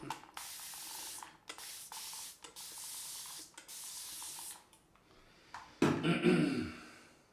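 Several bursts of water spray hiss in short spurts, followed by a louder wet rubbing and lathering sound near the end as a brush lathers shaving soap.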